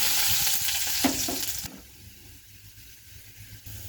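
Chopped garlic tossed into hot oil with black cumin in a kadai bursts into a loud, bright sizzle for over a second, then drops abruptly to a quiet low crackle.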